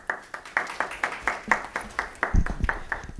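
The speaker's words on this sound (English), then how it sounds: "been a long time since I had an applause" A board meeting audience gives a speaker a round of clapping: about a dozen evenly spaced, fairly close claps that form a steady rhythm over three seconds, then end in a brief burst of rougher low-pitched noise.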